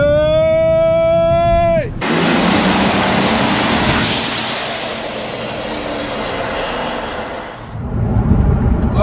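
Straight-piped BMW E60 530d with a Stage 1 tune, loud and close, droning as it pulls hard for several seconds after a sharp gear-change break, with a steady roar that eases slightly near the end.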